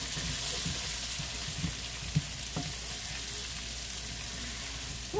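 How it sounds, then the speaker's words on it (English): Meatballs and mixed vegetables sauté in a skillet for a stir-fry, giving a steady, close sizzle with soft stirring scrapes throughout. "All these veggies mixed all in, sauteing in the pan."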